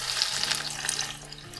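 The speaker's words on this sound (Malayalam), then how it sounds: "അങ്ങനെ എല്ലാം ചെയ്തിട്ട് നമുക്ക് ഇതൊന്ന് തിളച്ച എണ്ണയിലേക്ക് ഇടാം." Battered, breadcrumb-coated cheesy onion rings frying in boiling oil, giving a steady, close, dense crackling sizzle that holds at an even level throughout with no voices.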